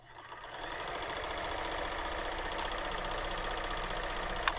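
A Kenmore sewing machine, freshly freed after being stuck, runs steadily with a constant mechanical whir and faint rhythmic clatter, fairly quiet and continuous, with a brief click near the end.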